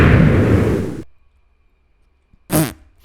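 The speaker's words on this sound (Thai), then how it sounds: "เสียงระเบิดโคตรดัง" A loud, booming Minecraft explosion rumbles for about a second, then silence, followed by a second brief, sharp burst.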